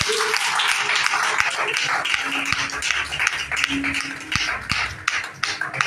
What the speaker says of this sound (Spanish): Díganle un aplauso al Señor por eso